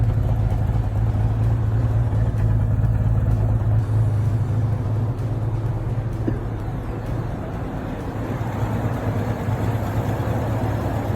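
A 1966 Chevy C10 pickup's engine idles steadily outdoors, a continuous low rumble that holds an even level throughout with no talk over it.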